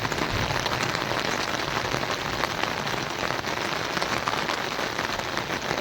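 Steady rain pours down, drops pattering densely on surfaces in a continuous, loud hiss with no voices.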